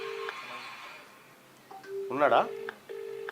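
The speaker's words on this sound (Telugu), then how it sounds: "ఆయనకే ఫోన్ చేద్దాం." Steady electronic telephone tones sound in short repeated bursts while a call is placed, with a brief burst of speech in the middle.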